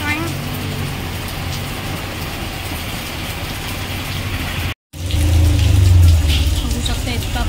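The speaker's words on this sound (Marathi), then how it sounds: "बघू शकता इतका पाऊस आहे." Heavy, all-day monsoon rain pours down as a loud, steady roar that briefly drops out, then returns with a deeper rumble mixed in.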